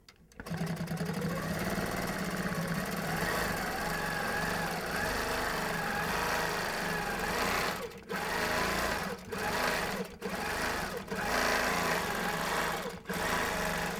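A Handi Quilter Avante long-arm quilting machine stitches with a steady, loud mechanical whir and rapid needle pulsing, pausing briefly several times before resuming.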